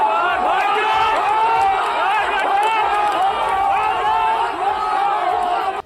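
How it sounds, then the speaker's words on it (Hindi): A large, agitated crowd at a polling booth in Siwan, Bihar, during a clash: dense shouting and overlapping voices with whoops and cries, loud and close, sustained throughout without a break. "शोर शराबा और जबरदस्त हंगामा हुआ।"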